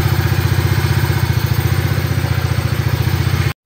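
A motorcycle engine idles steadily and close up with a low, rapid, even pulse and some mechanical clatter, running smoothly after an ECU replacement, with no talk, until the clip cuts off abruptly.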